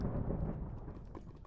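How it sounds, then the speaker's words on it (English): Rumbling thunder from lightning in the video game Ragecraft III, a continuous low roar heard close and fairly loud throughout, with no break. "Not liking the sound of all that lightning."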